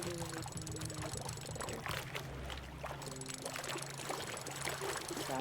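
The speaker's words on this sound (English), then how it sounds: "The sound of the water, like the sound effects" Flowing, splashing water from the video game Spiritfarer runs steadily alongside soft musical tones, a continuous gentle wash under the game's ambience.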